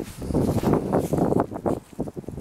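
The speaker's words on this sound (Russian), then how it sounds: "Ветер на улице, ветер, все трещит." Gusty wind blows outdoors on the grounds of a military unit in February, buffeting the microphone with close, uneven rushing bursts and rustling.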